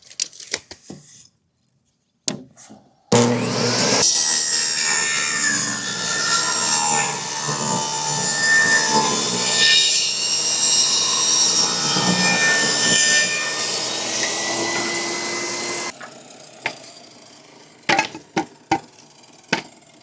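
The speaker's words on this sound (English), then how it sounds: "We might as well rip down our pieces at 3 inches where we got the table saw out." A table saw rips cedar boards into 3-inch strips, a loud continuous whine and cutting roar lasting about thirteen seconds, bracketed by short knocks and clatter of wood being handled before and after.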